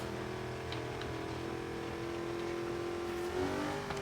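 A 1973 Firebird Trans Am engine drones steadily in Forza Horizon 3 while the car tears off-road, its tone holding level before revving up near the end.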